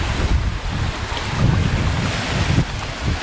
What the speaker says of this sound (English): Kind of see the waves coming in here today